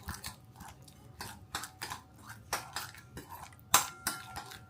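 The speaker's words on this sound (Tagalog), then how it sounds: "Haluin lang." A spoon stirs a mixture of sugar, cornstarch and a little oil in a bowl, making a series of irregular clinks and scrapes against the bowl, close up, with no talking.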